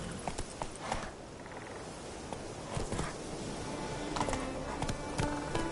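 Roach, a horse in the video game The Witcher 3: Wild Hunt, clip-clops along on hooves in a steady rhythm, loud and close, with game ambience underneath and no talk.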